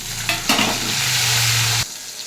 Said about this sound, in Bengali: কয়েকটা গোটা জিরে ফোড়ন দিয়ে দিলাম, বাঁধাকপির জন্য কেটে রাখা আলু, কেটে রাখা একটা মিডিয়াম সাইজের টমেটো